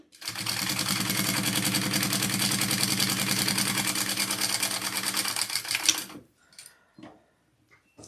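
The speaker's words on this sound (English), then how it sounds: "Yes, I'm sewing through it." A sewing machine stitches steadily through a fabric shoulder bag, a loud continuous mechanical whir for about six seconds before it stops, followed by a few faint handling sounds.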